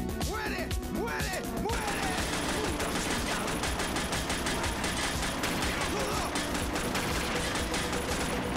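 Rapid automatic gunfire in the video game Scarface: The World Is Yours, a dense, continuous burst of shots with clattering impacts, loud and close, with a voice talking over the start.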